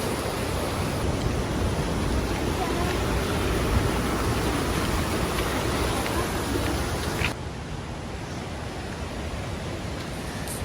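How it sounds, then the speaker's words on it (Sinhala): Water rushes at Bomburu Ella waterfall in a steady, loud, broadband roar that continues without a break, close at hand. The roar drops slightly toward the end. "බෝමුරුඇල්ලේ වතුර ගලාගෙන යන සද්ද ලොකුවටම අපිට දැන් ඇහෙනවා."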